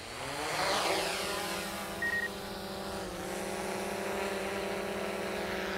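Camera drone for real estate aerial photography taking off, with a steady buzzing whine of rotors that rises quickly and holds close and loud, then shifts pitch slightly as it climbs away.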